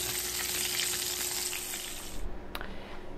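Cauliflower pieces frying in hot oil give a steady, loud sizzle that thins toward the end, with a brief clatter near the finish.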